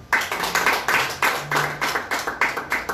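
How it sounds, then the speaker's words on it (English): A church congregation claps together in steady bursts, a dozen or so sharp hand claps ringing out in an even rhythm, close and fairly loud with no talking. "Why don't we clap for them?"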